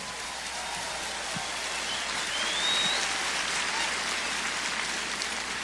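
Conference audience at a Spanish-language church event applauding, a continuous broad wash of clapping heard from within the hall, steady and moderately loud.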